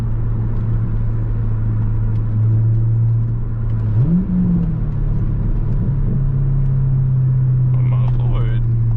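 Manual Corvette C5 engine driven on backroads, heard from inside as a steady, loud droning hum that dips and swoops upward in pitch midway as the revs change, then settles into a sustained cruising tone.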